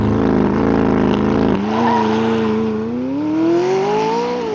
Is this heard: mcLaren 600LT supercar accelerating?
yes